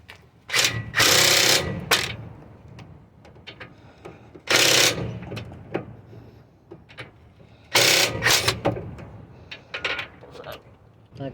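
A ratchet wrench works the 19mm tie rod nuts during a front passenger-side CV axle job on a Hyundai Santa Fe or Kia Sorento, heard as three separate bursts of rapid clicking with softer mechanical handling and some speech in between.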